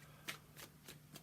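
Tarot cards are shuffled by hand in four quick, soft riffling bursts at an even rhythm, faint and close with no talking.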